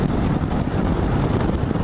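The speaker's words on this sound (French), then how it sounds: "là j'ai le vent en pleine tronche" Loud, steady wind buffeting a microphone on a motorcycle rider with almost no wind protection, a constant rushing roar with no speech.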